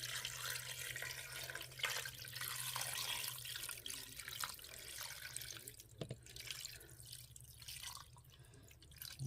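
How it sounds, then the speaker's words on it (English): Water pours and splashes steadily down the side of a metal Instant Pot pressure cooker pot for several seconds, with a low hum beneath it and small clinks near the end. "We're going to put our water in along the side."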